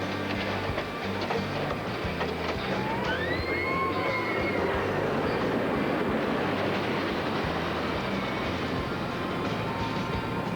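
Roller coaster trains on a theme-park test run, a steady loud rumble of wheels on track with a few rising squeals and whines partway through, running continuously.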